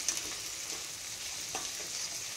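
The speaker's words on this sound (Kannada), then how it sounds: "ಈ ಟೈಮ್ನಲ್ಲಿ ಪುದೀನ ಹಾಕ್ಕೊಂಡು ಫ್ರೈ ಮಾಡ್ಕೊಬೇಕು" Onions and mint frying in a pan give a soft, steady sizzle with a few light stirring scrapes, faint and close, with no voices.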